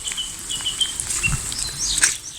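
Steady rain falls in a natural outdoor setting during a walk, a continuous broadband patter of drops close around the listener with no talking.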